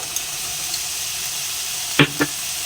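Vinegar and finely chopped carrots cook in a pan with a faint, steady sizzling hiss. Two quick clinks of a utensil sound close together near the end.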